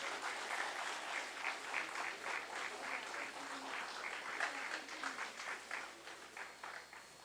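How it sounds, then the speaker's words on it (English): Audience at a national seminar on supply chain management giving a round of applause, sustained even clapping from a crowd heard at moderate distance. "A big round of applause"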